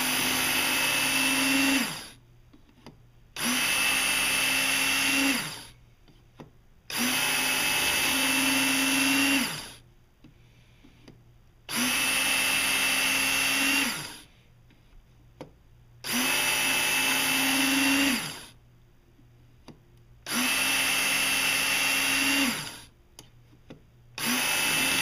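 A Work Sharp electric knife and tool sharpener polishing a blade: a motorized whir cycles on and off in about six even bursts of a few seconds each, separated by near silence, moderately close with no talk.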